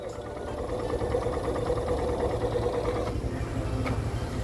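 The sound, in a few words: motorcycle engine running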